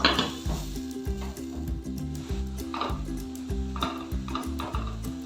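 Sliced onions and onion paste fry in a pan for a katla fish kalia, giving a steady sizzle with rhythmic scraping and clinking as a utensil stirs against the pan, close and fairly loud.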